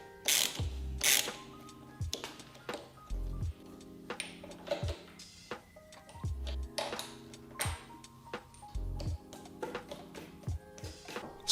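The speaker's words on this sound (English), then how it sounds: "I might have an issue torquing these down" A ratchet torques down handlebar riser bolts on a 2022 Harley-Davidson Super Chief Limited motorcycle, producing quiet, close bursts of rapid clicking separated by short pauses and a few metallic knocks.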